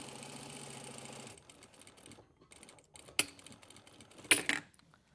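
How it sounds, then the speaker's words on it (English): Sewing machine stitching a pocket seam, running steadily for over a second then stopping, followed by quiet handling and a couple of sharp clicks. "So we're just going to sew above the row of stitching that I just did"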